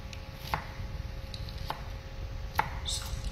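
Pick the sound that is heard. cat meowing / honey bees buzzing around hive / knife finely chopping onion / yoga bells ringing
knife finely chopping onion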